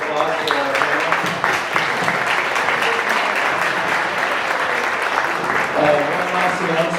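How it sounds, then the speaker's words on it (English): Audience applause for a panel on climate action, beer and skiing: steady, dense clapping from a crowd that fills the whole stretch at even loudness. "we'll give a round of applause for our panel"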